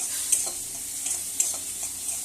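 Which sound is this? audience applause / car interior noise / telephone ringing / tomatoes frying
tomatoes frying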